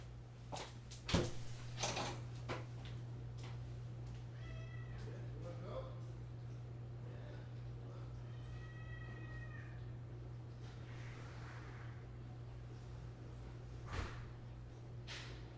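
A house cat meowing indoors, a few short, fairly faint mews spread across the stretch over a constant low electrical hum, with occasional thumps and household handling noises around them.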